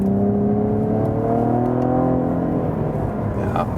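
A Cadillac ATS-V's 3.6-litre V6 engine pulls hard out of a corner, its steady loud drone rising in pitch as the sedan accelerates through second gear, heard from inside the car with no talking.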